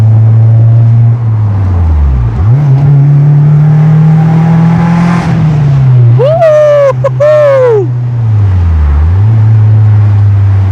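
A Honda S2000 AP2 with a VTEC engine revs hard, its tone sweeping up and down through repeated pulls with a sharp high-rpm wail in the middle, loud and close, with someone speaking over it.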